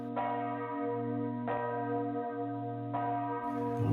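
A church bell tolls in a Dungeons and Dragons tabletop game set in the village of Nightstone. Three loud, resonant strokes come about 1.4 seconds apart, each ringing on with a long, overlapping sustain, and no one talks over them.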